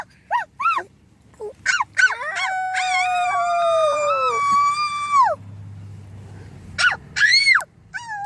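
A child imitates a coyote howl, rising and sliding long wavering wails mixed with shorter yips, loud and close, with brief quiet gaps between calls.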